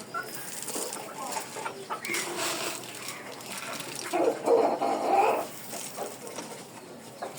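Backyard chickens, including a rooster, cluck and murmur nearby while pecking at homemade feed, with intermittent louder calls and a faint dog-like bark.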